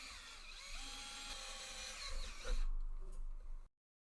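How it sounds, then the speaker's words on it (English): A power drill bores holes into a control box, a steady quiet whine that rises in the last second before cutting off abruptly. "The next step is marking and drilling the holes for attaching the pusher to the control box."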